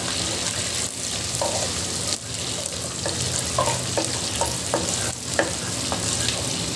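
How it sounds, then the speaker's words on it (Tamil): Small onions fry in oil for a fish curry, a continuous close sizzle dotted with frequent small crackles and pops. "சின்ன வெங்காயம் நல்லா வெடிச்சு வரணும் நம்மளுக்கு."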